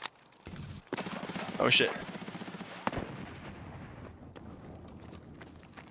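Gunfire in Escape from Tarkov on the Woods map rattles in close, rapid automatic bursts, then a sharp single crack and fading echoes, while a player exclaims over it.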